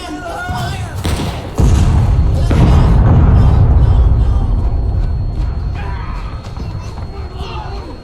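Artillery guns in a video game pound out heavy booming thuds amid a loud, chaotic rumble, with voices shouting over the continuous battle din.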